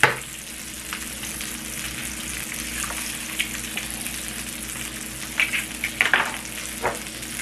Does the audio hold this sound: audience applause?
no